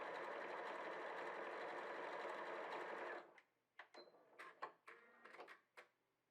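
A home sewing machine stitching a tiered can-can skirt runs in a steady, dense whir for about three seconds, then stops, leaving a scatter of sharp clicks and handling taps.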